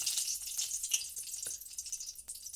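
Mustard oil sizzles hot in a wok, a steady bright crackling hiss with small pops, close and continuous with no talking.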